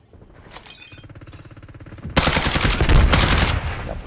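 Video-game gunfire: a rapid, steady stream of automatic shots builds for about two seconds, then erupts into a much louder, dense, close barrage of rattling fire that eases slightly near the end.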